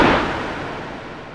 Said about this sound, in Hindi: मैंने गोली चला दी।